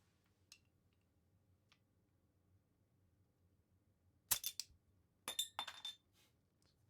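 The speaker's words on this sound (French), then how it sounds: "Ouvrez une bière." A beer bottle is opened and its cap clinks. There is a faint tick first, then a sharp metallic pop and a brief jingle of cap and glass, all close up over quiet room noise.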